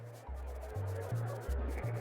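Chickens in the video game Secret of Evermore, a string of low blocky synthesized clucks in an uneven rhythm, close and clear, with no talking.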